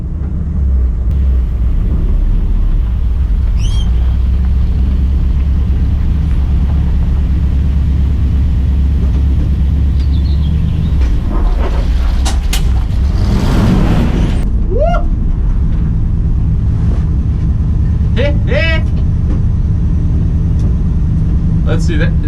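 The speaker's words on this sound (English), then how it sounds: "I just did a little burnout." An old truck that had sat for 15 years idles and revs with a heavy, steady low rumble just after a burnout, while people talk and shout excitedly over the engine.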